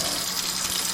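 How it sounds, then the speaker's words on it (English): Hands being washed under a running kitchen tap, a steady close hiss of flowing water splashing without a break for about a second. "just as soon as I wash my hands"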